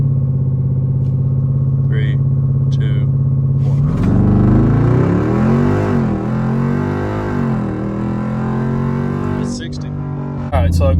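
Jeep SRT engine launching from 2,000 RPM: a steady low idle-like hum, then a loud surge from about four seconds with rising and falling harmonic sweeps as the SUV accelerates hard, with a voice heard over it.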